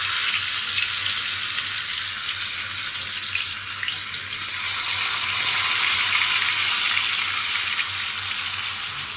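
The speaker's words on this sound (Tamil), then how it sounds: "எண்ணெய் சூடாயிருச்சு இப்போ பாருங்கள் நம்ம ஒரு துண்டு மீனை போட்டுக்கலாம்" Fish pieces, including small kolli fish, fry in hot oil on a tawa with a steady broad hiss that swells a little midway, close and continuous with no voices.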